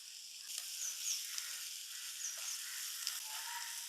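Small shallots sizzle and fry with salt in a pan for a Kerala-style beef and yam curry, giving a steady, close crackling hiss with occasional sharper pops and soft stirring.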